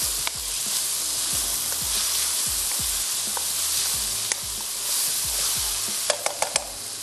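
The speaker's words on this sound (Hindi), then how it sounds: "साथ ही इसमें ऐड कर देंगे ये चॉप्ड शिमला मिर्च और इसको थोड़ा सा करते हैं मिक्स" Chopped capsicum stirred in a hot frying pan for pasta, giving a steady close sizzle with repeated soft scraping strokes of the spoon and a few sharp clinks near the end.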